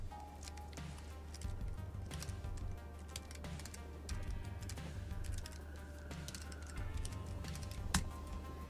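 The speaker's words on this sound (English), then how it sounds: "And now type in your product key." Rapid clicking keystrokes on a computer keyboard as a product key is typed, in irregular bursts over a low steady hum, fairly close and moderately quiet.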